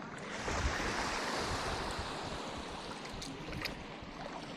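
Sea waves at Patnanungan Island, a broad, continuous wash of surf with gusty wind noise, fairly close and loud, with no talking.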